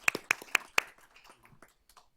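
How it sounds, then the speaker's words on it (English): A short burst of clapping at a board of trustees meeting, four sharp claps close together followed by scattered fainter taps, with no voices. "let's give these teams a round of applause"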